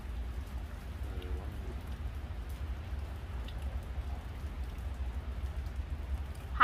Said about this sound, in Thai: ฝนมันตกแฉะเลยวันนี้มากับฝน